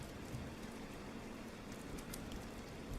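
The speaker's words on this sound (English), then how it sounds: "I hope you all enjoyed some rain, ambiance, and sounds" Rain ambience plays as a soft, continuous hiss of dense, steady patter, with no pauses and no voices.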